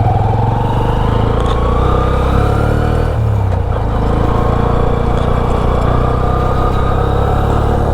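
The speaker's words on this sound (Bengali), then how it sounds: "এখন চালিয়ে দেখতে চলেছি CB 125।" A Honda CB 125 motorcycle runs nearby with a steady, loud single-engine drone that holds at a fairly even pitch, with a slight dip in the middle.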